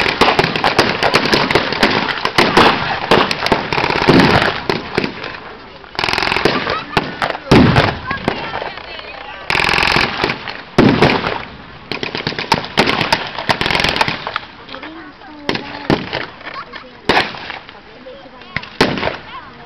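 Blank gunfire and explosions ring out in a mock battle at a tank show, with continuous rapid rifle and machine-gun bursts and heavy booms, loud and dense, while a commentator talks over the din.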